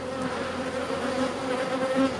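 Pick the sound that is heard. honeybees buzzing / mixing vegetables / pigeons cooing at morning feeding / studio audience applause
honeybees buzzing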